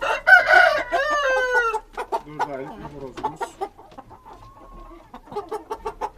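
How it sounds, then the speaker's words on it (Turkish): A four-month-old Indian breed rooster crows once in a rising, strained call, followed by scattered clucks and farmyard noises nearby. "Bir de size şöyle bir horoz göstereyim arkadaşlar."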